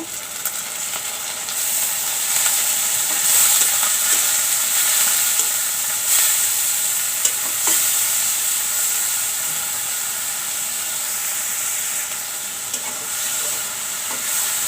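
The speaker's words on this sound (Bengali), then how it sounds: "দিয়ে দিচ্ছি ছোট ছোট দেশি চিংড়ি মাছ একটু তেলে ভেজে নেব" Small local shrimp frying in oil in a pan give a continuous bright sizzle and hiss, with occasional stirring scrapes and pops, close and steady with no talking.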